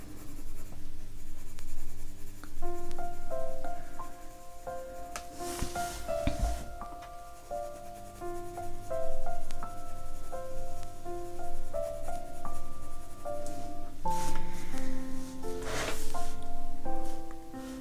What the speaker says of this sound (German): weil die Farben der Polychromos erst dann richtig strahlen, wenn man ein paar Schichten aufs Papier legt